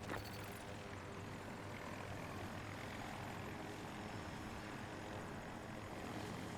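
A helicopter flies in a vehicle-combat video game, giving a steady, loud rotor and engine drone that holds constant throughout with no one speaking.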